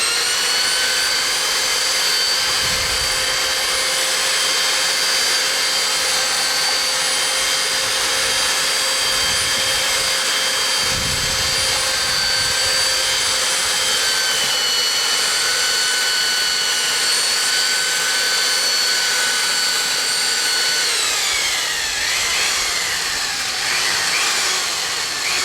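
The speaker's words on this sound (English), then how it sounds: "this would be a lot tougher if I didn't have this double mixer" A double mixer runs its blades steadily through a runny mixture, making a loud, continuous, high-pitched whirring drone that barely changes from start to finish, with no voices.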